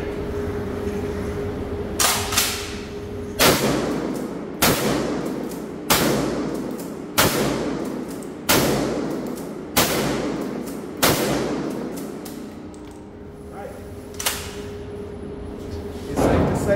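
Kel-Tec KSG pump shotgun firing mini shells: about ten sharp, loud reports spaced roughly a second or so apart, each with a short ringing tail, plus a few quieter clunks near the end.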